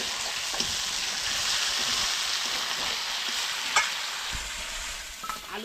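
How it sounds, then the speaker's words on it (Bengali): Potatoes fry in a pan with a continuous sizzling hiss, punctuated by occasional utensil clinks and stirring scrapes. "আলুগুলাকে ভেজে রেখে দিচ্ছি,"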